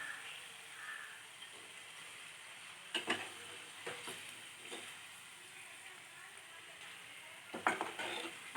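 Okra pakoda fries in hot oil with a soft, faint sizzle, and a few sharp scrapes and clinks of a utensil moving the pieces break through the quiet hiss.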